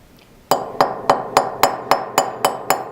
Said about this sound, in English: Letting the weight of the hammer do the work.